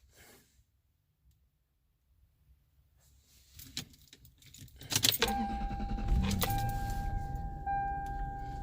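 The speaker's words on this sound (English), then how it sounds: "Let's turn the car back on, make sure everything still lights back up." A Lexus GS being started again: a quiet lull with faint clicks, a brief key-and-trim jangle, then a sharp ignition burst as the engine catches and settles into a steady close idle with a thin electronic tone, alone with no talk.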